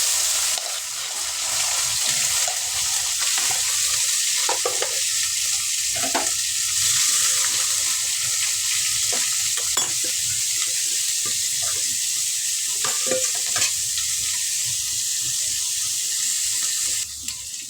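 Onions frying in hot oil with mustard seeds, cumin and dried chillies sizzle loudly and continuously close by, with occasional stirring scrapes and clinks and no talking.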